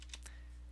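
A computer keyboard gets a few quick key presses, two or three soft clicks in a row over a steady low hum, faint and close.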